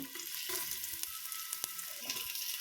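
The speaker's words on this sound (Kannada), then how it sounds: "ಎಣ್ಣೆ ಕಾಯ್ದ ನಂತರ ಒಂದು ಅರ್ಧ ಈರುಳ್ಳಿ ಹೆಚ್ಚಿಟ್ಕೊಂಡಿದ್ದೀನಿ." Chopped onion fries in hot oil for a mutton sambar, giving a steady, close hiss of sizzling with a few sharp crackles and light stirring.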